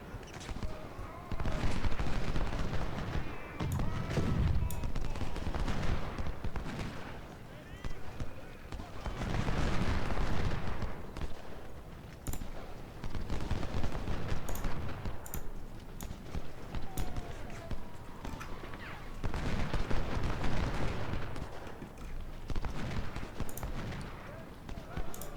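Musket volleys and cannon fire on a Civil War battlefield in Ultimate General: Civil War, with rolling crackles of gunfire and dull booms rising and falling in waves, loud and continuous.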